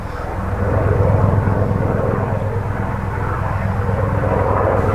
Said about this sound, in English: a helicopter as it comes through as you're filming.